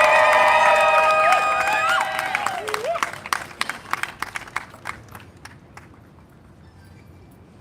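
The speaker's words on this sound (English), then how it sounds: "Round of applause for our native peoples." An audience at a press conference breaks into applause and cheering, with loud whoops and whistles at first, then scattered claps trailing off into near silence.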